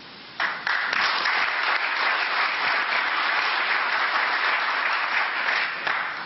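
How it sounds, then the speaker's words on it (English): Audience applause breaks out suddenly at a debate on whether colleges should pay athletes, then continues as dense, steady clapping from a sizable crowd before fading slightly at the end. "And give Jason an additional round of applause for coming on his oldest daughter's 11th bir"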